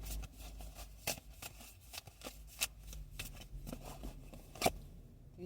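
Tarot cards being shuffled by hand give a soft, steady rustle broken by sharp, irregular riffling snaps, close and fairly quiet, with no voices.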